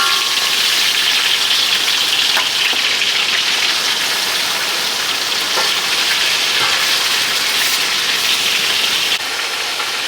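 Chicken pieces fry in a pan for chicken cacciatore, a steady, loud crackling sizzle that runs unbroken for ten seconds with occasional pops and no one talking.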